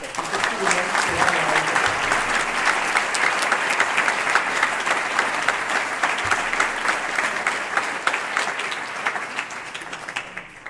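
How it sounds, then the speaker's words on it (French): Audience at an awards ceremony in Saint Pierre de la Mer breaks into loud, sustained applause, a dense wash of many hands clapping steadily for about ten seconds before slowly tapering off at the end. "j'aimerais que vous les applaudissiez bien fort"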